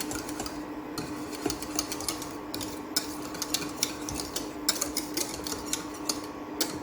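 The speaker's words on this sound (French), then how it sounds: "Il faut rester toujours là à toutouiller pour avoir vraiment une bonne béchamel." Béchamel sauce being stirred in a pan with a utensil, a continuous scraping with irregular metallic clinks against the pan, steady and close, with no one talking.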